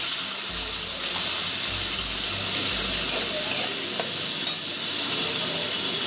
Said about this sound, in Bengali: এবার ওই তেলের মধ্যে আমি আলুটা আলুটা আমি ভেজে নেব